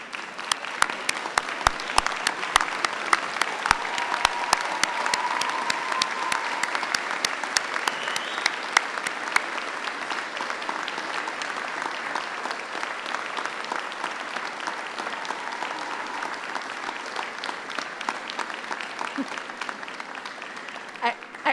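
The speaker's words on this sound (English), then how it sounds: "give them a massive round of applause and cheer" A graduation crowd in Swansea applauds for a long, steady stretch, dense clapping from many hands in a large hall with occasional cheers mixed in.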